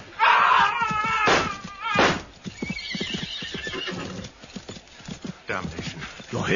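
Horses neighing and clip-clopping hooves in a period sword-and-pistol drama, a loud whinny followed by heavy thuds and galloping hoofbeats moving off, with shouts mixed in.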